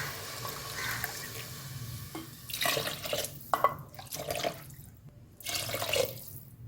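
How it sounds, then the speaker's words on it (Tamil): Water poured from a tumbler into a mixer jar for sprouted millet and green gram kichdi, a near, steady splashing trickle that comes in two or three bursts with short pauses between. "இந்த டம்ளரில் 3 டம்ளர் தண்ணி ஊற்றிக்கலாம்"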